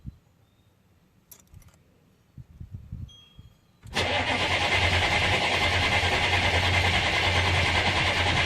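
An old GM car engine cranks and catches after some quiet handling noises, then roars loudly and steadily as it revs high to about 4,000 RPM, close by, with no talking.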